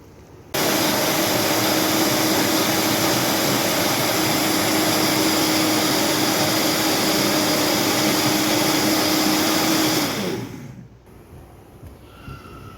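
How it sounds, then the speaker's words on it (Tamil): An electric blender purees boiled cream of broccoli soup, a loud, steady whirring roar of about ten seconds that cuts in sharply and then winds down, with no voices. "இதை நம்ம கொஞ்சம் நேரம் ஆற விட்டுட்டு நல்லா பிளெண்ட் பண்ணிக்கலாம்"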